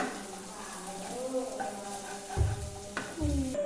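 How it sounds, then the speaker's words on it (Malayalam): Paneer butter masala with cashews and cardamom is stirred in a pan, soft scraping and a low sizzle, with a couple of heavier spoon knocks near the end while a voice talks. "എന്നിട്ട് നന്നായിട്ട് ഇളക്കി കൊടുക്കാം"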